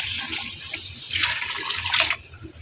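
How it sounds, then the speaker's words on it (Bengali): Water poured from a tap into a cooking pot in a home kitchen, a steady bright splashing stream that swells louder midway, then drops off abruptly near the end, heard alone. "এখন দিয়ে দিব পানি"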